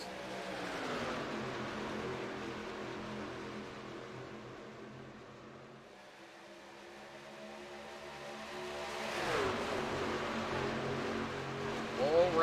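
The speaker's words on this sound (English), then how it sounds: "we're racing here tonight at the iRacing Superspeedway, the OP Saturday Night Truck Series" Simulated trucks race around the steep banking of the iRacing Superspeedway in a Saturday night truck series event, a steady layered engine drone that dips slightly midway then swells louder as the pack roars past.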